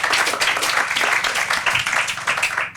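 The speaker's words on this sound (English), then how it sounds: "Give her a great big round of applause" Brisk, close clapping from a crowd at a ribbon-cutting ceremony for new homes carries on steadily, with rapid uneven claps that fade a little at the very end.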